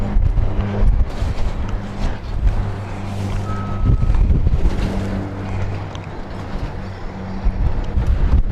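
A Lancaster bomber's Rolls-Royce piston engines drone steadily and loudly during the King's Birthday flypast, a sustained low throbbing hum mixed with wind buffeting on the microphone, with no talking.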